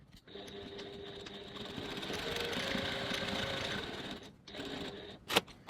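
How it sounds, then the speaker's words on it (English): A sewing machine runs a steady whirring seam on a crossbody bag, with short stops and restarts for back stitching at the ends, close and clear with no talk. "just going to back stitch at each end. And do the other side"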